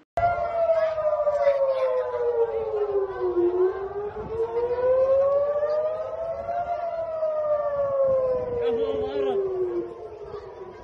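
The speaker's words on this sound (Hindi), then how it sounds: "और सिर्फ सायरन की गूंज सुनने को मिलेगी।" An air raid siren wails across Israel, a loud rising and falling tone that sweeps slowly up and down in long, even cycles and echoes throughout before fading slightly at the end.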